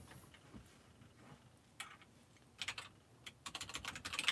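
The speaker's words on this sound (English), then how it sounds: "Let's whack out the old keyboard." Computer keyboard typing in bursts, sparse clicks at first, then denser clusters of keystrokes later on, fairly quiet and close, with no talking.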